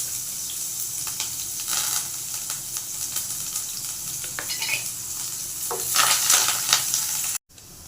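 Chopped onion and curry leaves frying in about three and a half spoons of hot oil for a curry, giving a steady close sizzle with scattered crackles that swells louder before cutting off abruptly near the end.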